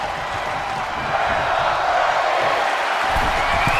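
Video game wrestling arena crowd in WWE 2K22, Houston, Texas: a steady, loud roar of many spectators with scattered cheers and claps running continuously without letup.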